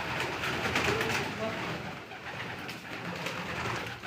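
Pigeon cooing amid a busy, noisy outdoor background with people talking nearby, the soft coos faint and partly masked throughout.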